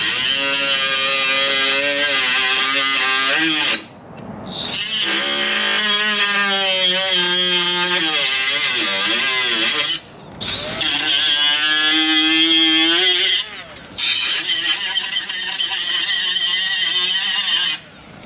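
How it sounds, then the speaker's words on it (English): An angle grinder cuts metal on a car door in an auto repair shop, a loud steady whine with rising and falling pitch, broken by three short pauses. "let me get the angle grinder"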